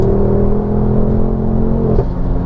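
A Mountune MR375 Mk2 Ford Focus RS pulls hard in second gear, its engine droning loudly and steadily from inside the cabin with a brief shift-like blip near the end.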